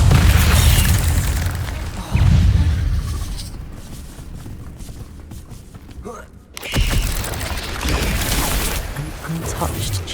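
Spell-casting effects from the Hogwarts Legacy video game, including an Incendio fire spell in a cave: loud bursts and booming whooshes at the start, a quieter rumbling stretch, then another strong fiery surge late in the clip.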